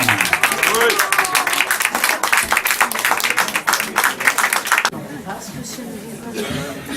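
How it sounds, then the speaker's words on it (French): Audience applause in a poetry slam bar, the Cave Romagnan in Nice, with clapping, chatter and laughter for about five seconds before fading into quieter murmuring room noise. "je vous demande de l'applaudir"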